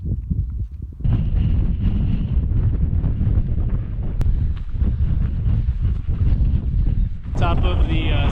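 Strong wind buffets the microphone at the top of Stanford Saddle on the Continental Divide along the Colorado Trail, a loud continuous low roar with gusty surges and brief quieter moments at the start.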